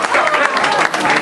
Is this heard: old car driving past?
no